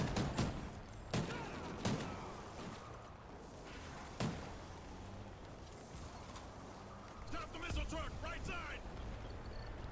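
Gunfire in Call of Duty: Ghosts, a heavy gun able to take several thousand rounds, with scattered sharp shots cracking out at irregular intervals amid a busy background of game noise.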